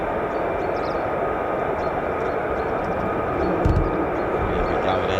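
F-35A fighter jet roaring at RAF Lakenheath on a misty morning, a dense sustained broadband rumble with a slight swell near the end, a voice talking over it.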